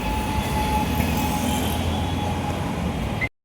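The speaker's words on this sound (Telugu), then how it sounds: "సకూర్పూర్ మెట్రో రైల్వే స్టేషన్కి వచ్చాము" Delhi metro train at Shakurpur station, a loud continuous rumble of the carriages with a faint squeal from the wheels, sustained and close, ending abruptly, with no voices.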